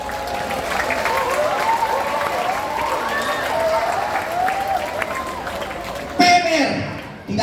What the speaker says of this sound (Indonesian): Beri tepuk tangan untuk Pramuka.